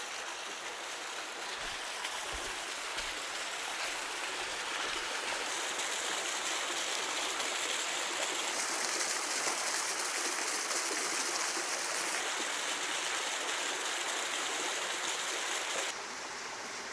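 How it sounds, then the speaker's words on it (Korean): A steady, gentle rush of falling water from a small, low-flowing waterfall in Yeongwol, South Korea in autumn, like a small trickling cascade, continues evenly without pause; no voices. "이곳이 작은 폭포네요."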